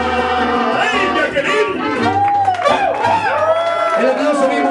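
A party crowd of men at a birthday celebration with a mariachi band whoops and cheers loudly, voices overlapping in a dense, close burst lasting a few seconds.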